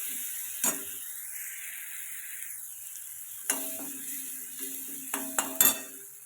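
Green chilies sautéing in hot ghee in a pan, a soft steady sizzle with a few sharp clinks and scrapes of a spoon against the pan toward the end, no talking.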